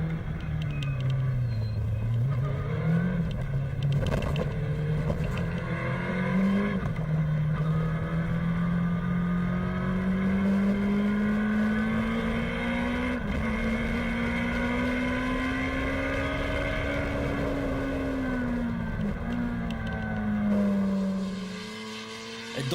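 A Kawasaki racing sidecar's engine drones loudly and steadily on a rally road stage, pitch rising and falling through gear changes and a long pull before easing off near the end.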